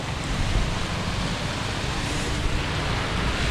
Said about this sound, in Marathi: धबधबा बघा देवी घाटामध्ये, अगं वरून कसं पाणी पडतंय आणि खाली